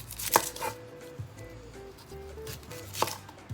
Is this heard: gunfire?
no